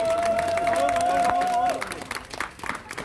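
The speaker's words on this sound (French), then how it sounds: "Applaudissez-le." A voice carries over the crowd at a public gathering in Avignon, then scattered clapping from the audience breaks out. The applause is loose and uneven, mixed with crowd noise and not very loud.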